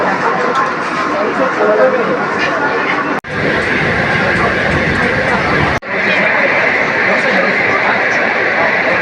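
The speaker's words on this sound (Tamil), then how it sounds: "ட்ரெயின் ஆல்ரெடி வந்துருச்சு." A Kolkata metro train stands at a station platform, producing a steady, loud rumbling drone broken by two brief gaps, with crowd chatter and people talking throughout.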